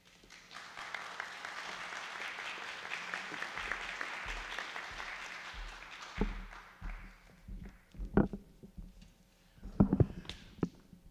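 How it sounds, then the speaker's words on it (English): An audience at a town public budget hearing applauds, a dense patter of clapping for about six seconds that fades out, followed by scattered footsteps and knocks in the room. "thank you very much for the applause"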